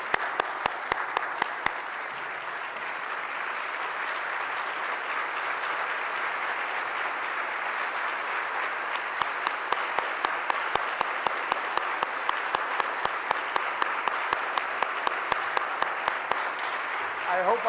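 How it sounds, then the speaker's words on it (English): Applause fills the room at the 2016 Whistler awards ceremony as honorees head to the stage, a long, even roar of many clapping hands, with sharp nearby claps standing out at the start and again later. "let's give them a round of applause"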